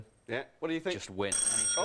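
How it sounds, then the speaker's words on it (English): A bell rings near the end, sustained and ringing on after people chatting about a football match, loud against their talk. "blimey, that's the doorbell already."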